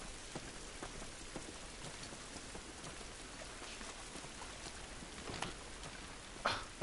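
Steady rain patters softly on a surface in The Last of Us Remastered, with scattered droplets ticking through a faint, continuous hiss.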